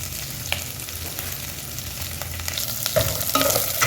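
Chicken frying in oil for yellow village-style pulao, a steady close sizzle with occasional stirring scrapes and clicks throughout, no talking.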